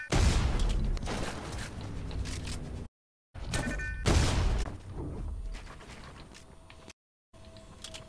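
Machine pistol gunfire in Fortnite comes in loud mechanical bursts and clattering shots, with two short breaks of silence between the bursts.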